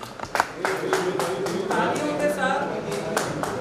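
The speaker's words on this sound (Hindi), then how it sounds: "तालियों की गड़गड़ाहट के" Audience applause at a poetry group's social gathering in Udaipur, made up of distinct individual claps that build into steady clapping, with voices in the background.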